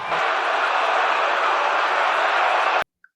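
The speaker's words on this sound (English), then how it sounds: "Listen to this crowd" Baseball stadium crowd roaring after a game-winning home run, a sustained loud wall of cheering that holds steady before cutting off abruptly.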